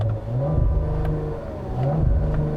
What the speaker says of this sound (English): starting the car up, you can hear the V6 has a slightly louder rumble in this car